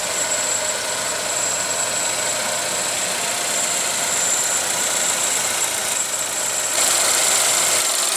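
A 2016 GMC Terrain's 2.4 L inline-four idles up close, a steady, loud mechanical hum with a faint ticking texture and a slight lift in level near the end.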